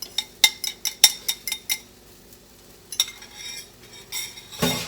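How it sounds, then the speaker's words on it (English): Eggs stirred in a hot pan, a rapid series of sharp metal clinks and scrapes of a utensil against the pan, then softer stirring and a brief louder scrape at the end. "And now let's throw in the eggs."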